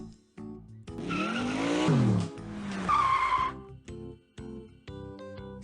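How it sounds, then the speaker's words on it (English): A fancy sports car peels out in a puppet-theater Cinderella skit, its tires squealing loudly in two long skids as the engine revs, followed by brief chiming music notes. "She jumped in the fancy sports car and sped off to the royal ball."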